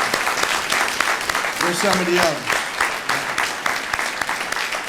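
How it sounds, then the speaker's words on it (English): Big round of applause from a retirement ceremony audience, a steady dense wash of clapping filling the hall throughout, with a voice speaking briefly over it. "Let's give them a big round of applause."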